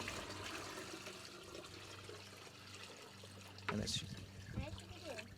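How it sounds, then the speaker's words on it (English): Leftover rice water mixed half and half with rain water is dumped over garden plants, a steady outdoor splash and trickle that brightens into a louder pour near the end, with a person speaking over it. "And then we're going to dump the other half over here."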